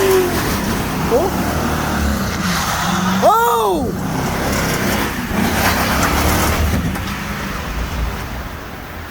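A GMC Sierra pickup does a neutral drop in four-wheel drive, its engine roaring steadily as the tires spin and squeal, with a brief rising and falling chirp midway; voices shout over the noise.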